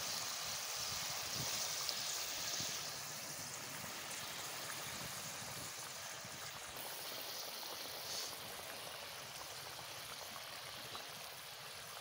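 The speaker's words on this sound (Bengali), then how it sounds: "ঝোলটা ভালো করে ফুটে গেছে, দেখো কত সুন্দর ফুটে গেছে।" Curry gravy boils in a pan, giving a steady, soft bubbling hiss that runs continuously without pause, fairly quiet and close.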